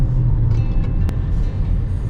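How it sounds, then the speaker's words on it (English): Steady low engine rumble from an idling BYD Seal 5 hybrid car, continuous and close by, with a faint brief click partway through and no voices. "Okay, now the engine's running."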